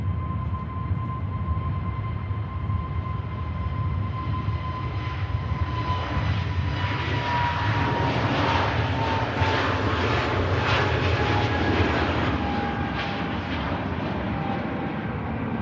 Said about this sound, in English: Here goes the BA, heading down to Heathrow.